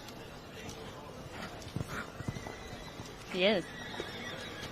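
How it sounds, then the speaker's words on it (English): Horses in a main show ring, with a sharp whinny standing out near the end over faint hoofbeats, and a commentator talking under a steady arena murmur. "going to choose to gallop the horses across the front"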